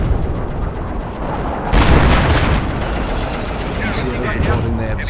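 Rumbling artillery blasts and explosions in Company of Heroes, set during Operation Bluecoat in 1944. The booms are dense and roll continuously, with a louder burst in the middle, and radio-style voices talk over them.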